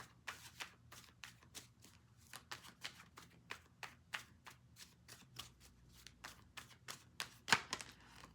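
Tarot cards are shuffled in a steady run of quick riffling bursts, close and quiet, with no talking.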